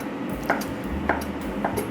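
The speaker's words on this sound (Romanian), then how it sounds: "Și acum cu cuțitul tăiem, uite așa" A knife cuts through rolled csipetke noodle dough for Hungarian goulash in a few soft, brief strokes, with light taps against the board roughly every half second.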